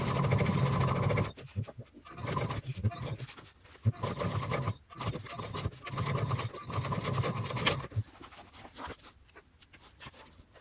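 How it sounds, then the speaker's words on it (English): A sewing machine top-stitches a contrasting panel onto a bag panel. It runs in several bursts of rapid needle chatter, broken by short pauses when the stitching stops and restarts. "now we're simply going to take this to the machine and top stitch this in place"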